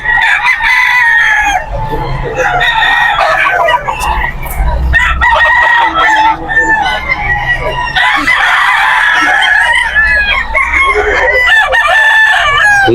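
Roosters crow repeatedly at a busy pet market, loud and close, with clucking and other fowl calls layered over faint background chatter.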